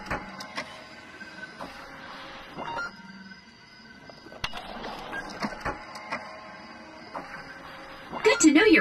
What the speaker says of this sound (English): Good to know your printer is working.